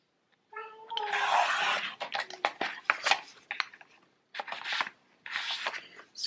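Scissors cutting through a paper save-the-date card for a homemade magnet invitation, heard as close, crisp snipping and rustling in bursts with short pauses between cuts.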